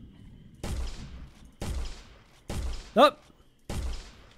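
Four heavy gunshots from a Finding Bigfoot hunting game, evenly spaced with booming decay, plus a sharper burst in between; a player speaks briefly.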